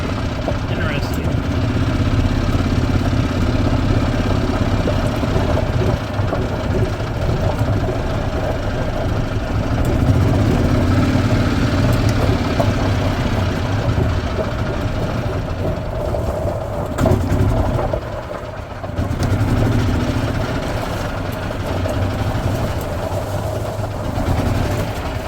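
A 2010 Yamaha Drive G29 gas golf cart engine runs steadily at close range, a continuous low throbbing drone that dips briefly near the end, with someone talking over it.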